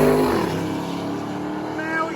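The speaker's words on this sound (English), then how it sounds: "we got some good cars going down right off the bat" Loud drag racing cars, including a turbocharged LS-swapped Firebird, roar steadily with revving as they launch down a strip, a high whine rising near the end.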